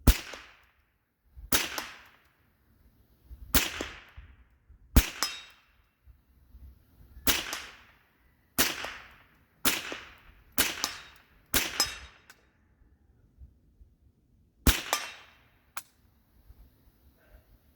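Ten sharp, loud .50 Beowulf rifle shots ring out at a range, spaced irregularly a second or two apart, each a crisp crack with a short ringing tail from impacts on solid aluminum cylinders.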